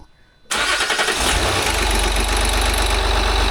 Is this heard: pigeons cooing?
no